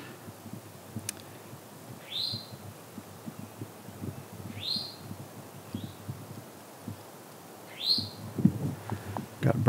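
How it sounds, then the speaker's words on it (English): A bird in the Black Forest woods gives three clear, rising chirps spaced a couple of seconds apart, moderately near, over a steady low background rumble and occasional footstep-like thumps. "Got a bird friend back here"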